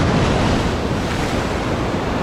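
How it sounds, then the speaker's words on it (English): Big ocean surf breaks over rocks on the coast of Hawaii's Big Island, a loud, steady rushing wash of water with wind noise on the microphone and no voices. "Oh, that's a big wave."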